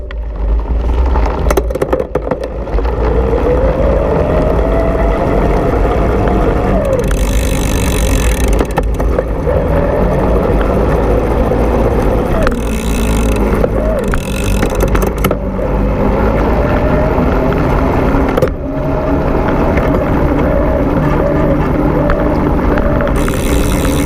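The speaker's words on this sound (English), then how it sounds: "At the higher RPM, you'll hear the motor kind of a whining sound" A Bulls E-Stream EVO AM 4 electric mountain bike motor with a belt drive whines at high RPM, a loud rising and falling tonal hum over road and wind rumble, briefly cutting out and returning several times.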